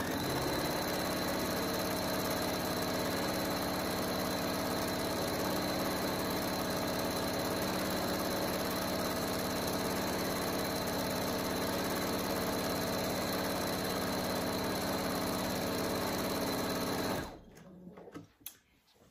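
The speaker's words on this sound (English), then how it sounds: "we're just going to sew all the way around the edge of the liner piece of the bag" A sewing machine runs a steady straight stitch around the edge of a bag liner, a continuous even mechanical whir held for about seventeen seconds, then stopping abruptly with a few small clicks.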